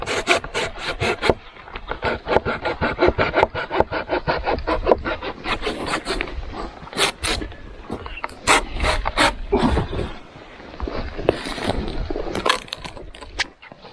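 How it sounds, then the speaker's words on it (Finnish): A hand saw cuts through dry firewood outdoors in rapid, regular rasping back-and-forth strokes, close and fairly loud, with brief pauses between bursts. "Kuivaa puutahan sitä yleensä polttopuuksi sahaa."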